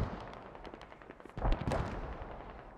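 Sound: gunfire in the video game Squad

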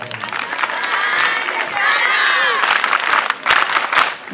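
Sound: audience clapping

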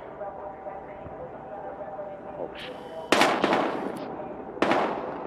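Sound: gunshots in a video game

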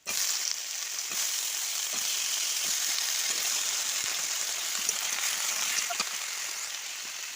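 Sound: vegetables added to hot oil after frying hilsa fish, sizzling

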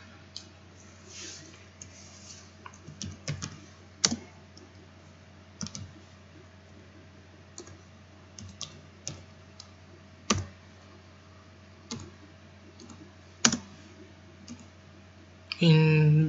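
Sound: typing a formula on a computer keyboard

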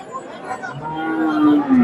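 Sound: cow mooing at cattle market

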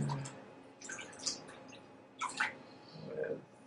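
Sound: wine being poured

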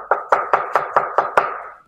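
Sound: knife chopping lettuce for a salad

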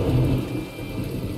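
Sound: rain and thunder in the video game My Time at Portia

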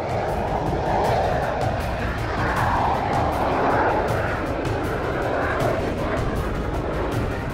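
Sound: de Havilland Vampire WZ-507 jet aircraft taking off

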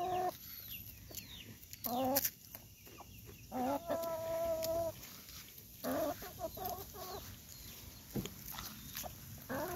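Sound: hens clucking while eating cookies

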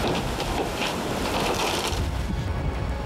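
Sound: yacht smashing against rocks

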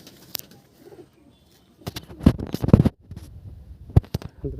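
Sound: Andhra pigeon cooing

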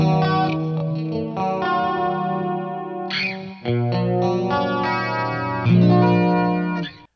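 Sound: electric guitar tone through BOSS Katana MK2 amp

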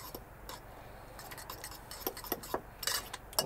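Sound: stirring whisked egg and grated cheese with cutlery

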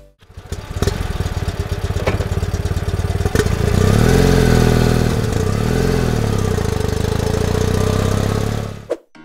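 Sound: BMW R75 motorcycle engine running

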